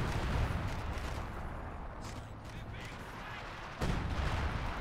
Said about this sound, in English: Runs through his own artillery.